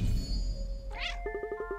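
A cartoon cat in the Cat Quest video game lets out a short, close, rising meow, followed by a quick string of light chiming plucked game notes over a low background hum.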